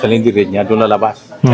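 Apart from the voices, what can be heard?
No everyday noises stand out.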